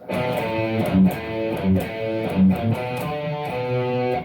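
A distorted electric guitar chugs out a short palm-muted riff, choppy bursts with brief rests, repeating a low pattern.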